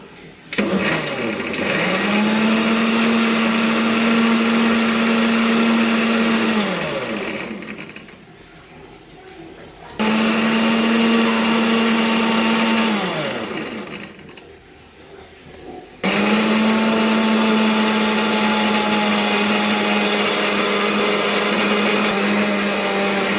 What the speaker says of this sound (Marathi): आता परत ते मिक्सरला की भांडं मिक्सर लावून फिरून घेऊया